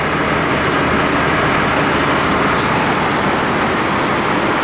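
A custom-made tractor PTO shaft drives a modified slurry spreader, producing a loud, steady, close engine and driveline roar with constant rumbling vibration and no pauses.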